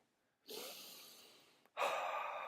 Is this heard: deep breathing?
yes